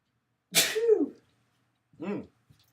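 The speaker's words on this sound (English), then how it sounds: "Now I gotta sneeze too." A person sneezes in a quiet room, a sharp burst followed by a trailing vocal sound, then a softer second snort-like sniff about a second later, close to the microphone.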